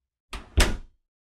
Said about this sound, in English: Then I opened the door.